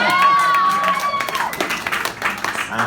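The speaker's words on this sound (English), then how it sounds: "Really, tonight is just about applauding Lauren a lot of times." At a comedy show in Brooklyn, NY, an audience applauds Lauren Mayberry with loud, dense clapping and cheering throughout, crowd noise close and continuous while voices ring over it.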